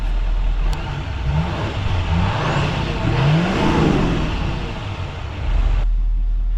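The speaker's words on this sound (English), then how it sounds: "get a quick video of just how the turbo and the exhaust sounds really quick" A 2026 Chevrolet Silverado 2500HD Trail Boss pickup engine revs up and down a few times, turbo and exhaust roaring with rising and falling pitch, close and loud throughout.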